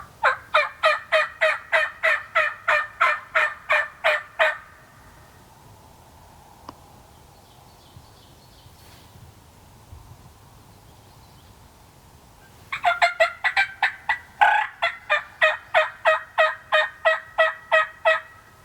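Wild turkeys gobble from the roost outdoors in New York, loud rapid bursts of gobbling in two runs separated by several seconds of quiet ambience.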